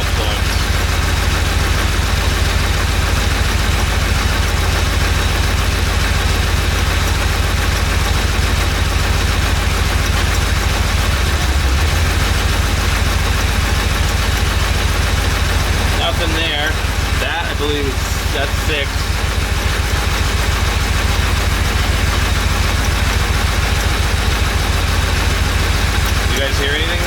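A Porsche 911 engine idles roughly with spark plugs pulled, a loud, continuous low throb with an uneven pulse, while someone talks over it at intervals.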